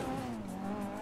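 Tires screech in a sustained skid as a car brakes hard in the video game GTA V, with a loud engine drone beneath.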